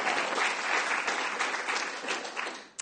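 Sustained applause from a crowd of participants at a closing ceremony, steady dense clapping filling the room for several seconds before tapering off abruptly at the end.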